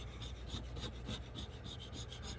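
A flat blade scrapes a decal off the side of an RV in steady, repeated rasping strokes, fairly quiet and close, with no talking.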